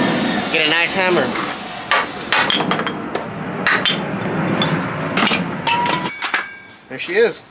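Sharp hammer blows strike wood repeatedly on a truck bed stake fence for a 1950 Ford F1, in an irregular series, loud and close, with brief pauses between hits and a voice speaking briefly.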